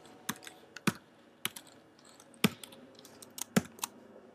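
Keystrokes on a computer keyboard while typing a line of web code, a run of sharp, close clicks arriving irregularly in small clusters with short pauses between them, heard alone with no talking.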